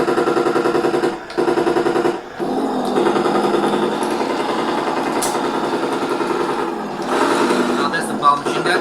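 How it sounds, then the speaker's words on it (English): A Heng Long Panzer III toy tank's rapid, buzzing rattle of electronic machine-gun fire plays in long bursts with brief pauses, loud and close, like a toy sound effect. "Now that's the power machine gun."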